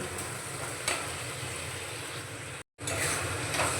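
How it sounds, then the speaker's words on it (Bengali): Marinated mushrooms go into a pan of boiling gravy, bringing a steady close sizzle and bubbling hiss with a brief clatter, a sudden moment of silence, then the sizzle again. "ম্যারিনেট করা মাশরুমগুলো এখন আমি দিয়ে দেব।"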